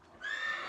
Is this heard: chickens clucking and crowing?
no